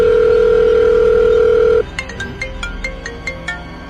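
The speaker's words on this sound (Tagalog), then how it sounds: "Wait, tawagan natin si Dexter" A phone call rings out after a steady dial tone, with repeated ringback tones in a regular rhythm, clear and close.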